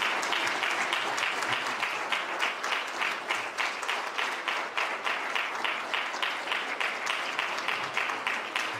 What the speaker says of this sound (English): One more round of applause for the 1975 championship team.